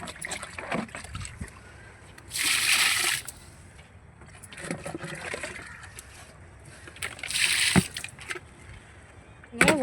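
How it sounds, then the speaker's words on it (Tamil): Water from a garden hose pours into a bucket in a home garden, heard as two loud gushing surges over a low background of quieter trickling and splashing. "இப்போ ஓசி போட்டு இந்த பக்கெட்டு ஃபுல்லாக தண்ணி பிடிச்சிட்டோம்"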